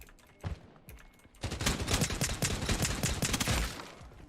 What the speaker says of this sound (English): God, the Glock is so powerful considering it's such a shy gun